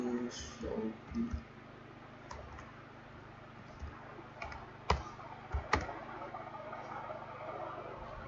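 A computer mouse gives a few sharp, isolated clicks, close and fairly quiet, spaced irregularly against a low background hum while someone talks in places.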